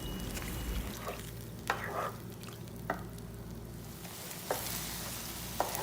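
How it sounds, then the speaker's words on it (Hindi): Chicken liver fries with browning onions over medium-high heat, keeping up a steady background sizzle broken by a few distinct clinks and scrapes of a stirring utensil. "कलेजी का रंग बदलने तक हम इसको पकाएंगे।"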